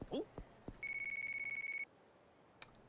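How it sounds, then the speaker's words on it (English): A mobile phone in the video game Yakuza 3 rings with a steady, rapidly pulsing electronic tone lasting about a second, preceded by a few short thuds and followed by a faint beep. "Saved by the ringtone."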